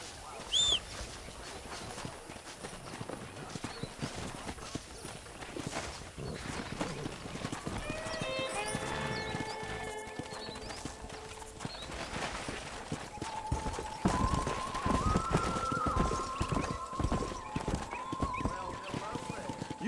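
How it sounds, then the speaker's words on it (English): Horses in the Red Dead Redemption video game gallop with steady clip-clop hooves and give several whinnies, set under game music and spoken dialogue. "Let's see if we can't wrangle some horses."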